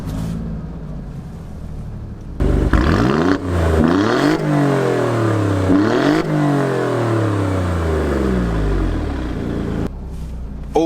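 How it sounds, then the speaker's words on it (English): An Alfa Romeo Quadrifoglio press car is started, its engine catching abruptly and then revved repeatedly in rising and falling sweeps, loud and close, before it cuts out near the end. "engine start, stop button. Let's just give it a whirl"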